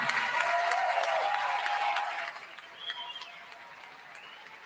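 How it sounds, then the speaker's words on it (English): A crowd applauds Santita, a full, even roar of clapping that tapers off after about two seconds, leaving scattered claps and a faint murmur. "Give Santita a great round of applause."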